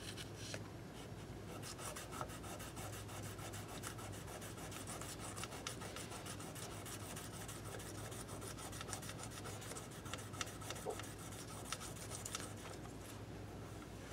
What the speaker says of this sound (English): And I got some 1000 grit sandpaper. And I'm just gonna work on this first fret right here.